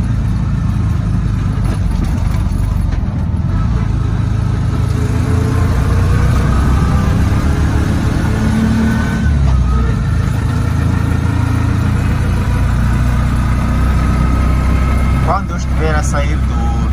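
A three-wheeled motorcycle taxi (txopela) runs steadily in Maputo street traffic on Avenida Mário Ngobi, its engine a constant loud rumble and drone with ambient road noise throughout.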